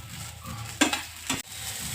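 A spoon scrapes and knocks against a pan twice amid a steady, soft sizzle of eggplant frying.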